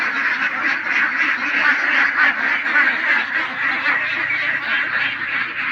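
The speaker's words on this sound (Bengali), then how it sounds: "এই যে পাশে আমার হাঁস কতগুলা" A flock of ducks quacking continuously and loudly at close range, many overlapping calls with no pause.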